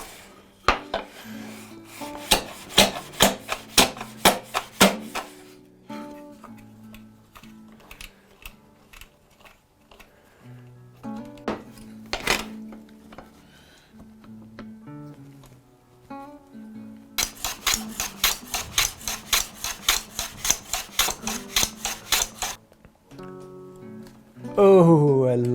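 A hand plane on a shooting board trims end grain mahogany: crisp, close scraping strokes repeat in quick bursts with clattering wooden knocks between runs, and a voice is heard briefly.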